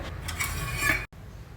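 Dosa batter with salt being mixed by hand, a steady wet scraping and sloshing with light clatter, close and continuous, then a brief break of silence before the mixing resumes.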